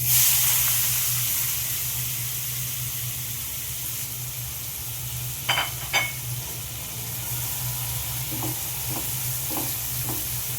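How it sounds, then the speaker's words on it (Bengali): Long-sliced onions with cloves and cardamom frying in hot oil for a fish curry, a steady sizzle broken by a few scraping stirs. "এবার পেঁয়াজটা আমি 3-4 মিনিটের মতো ভালো করে ভেজে নেব"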